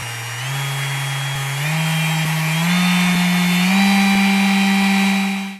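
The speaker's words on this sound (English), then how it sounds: "the sander is quiet compared to many other sanders that I've used" A Festool sander runs steadily and fairly loud with no one talking, its motor hum stepping up in pitch a few times as the speed setting is raised.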